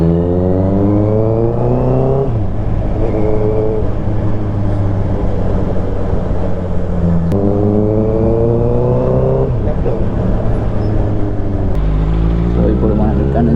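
A Honda CBR650F motorcycle drones loudly and continuously while riding, its engine pitch sliding up and down through gear changes, with heavy wind rush close to the microphone.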